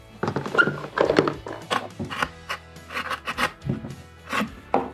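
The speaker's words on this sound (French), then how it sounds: "on va faire des trous avec une perceuse." A power drill bores small drainage holes through the bottom of a milk carton, giving a run of uneven rasping, grinding bursts over a low motor hum, close by with no talking.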